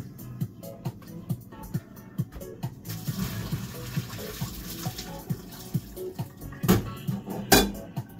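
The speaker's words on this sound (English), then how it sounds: "Now we will go ahead and drain." Cooked instant ramen noodles, Myojo Sapporo Miso, being drained in a kitchen sink, with water splashing and trickling in bursts, a steady pour in the middle and a few louder clattering splashes near the end.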